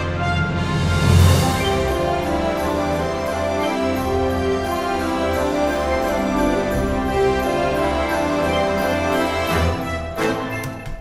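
An orchestral interlude variation from a film score swells with a bright, full-bodied ensemble, an early loud accent followed by sustained layered harmony and a late flourish, with no voices over it.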